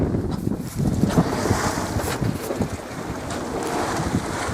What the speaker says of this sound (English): the waves are so sloppy that it's really difficult